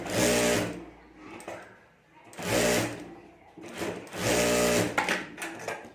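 A sewing machine stitches fabric and lining together for a homemade clutch bag, running in three loud, close bursts separated by short pauses, with a voice talking softly in the gaps.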